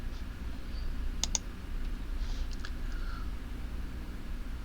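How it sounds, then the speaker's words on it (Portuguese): A short burst of computer keyboard keystrokes while entering a command on a z/OS mainframe terminal, with a couple of clustered clicks including the Enter press, faint over steady background hiss. "digitei lá o comando conforme está aqui na tela, né? Dei Enter"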